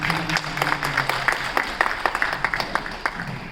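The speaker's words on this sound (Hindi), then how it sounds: "लिए भी जोरदार तालियां बजाएं।" Scattered clapping from a modest audience at an Urdu ghazal evening in Kathmandu, a loose patter of individual claps over a steady low hum that thins out toward the end.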